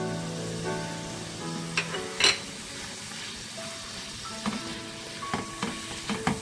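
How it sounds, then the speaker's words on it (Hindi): Tawa gosht, mutton roasting on a flat iron griddle, hisses and crackles continuously, broken by occasional metal scrapes and clinks of a spatula against the hot surface. "और बस इसे 3-4 मिनट तक और भुनेंगे"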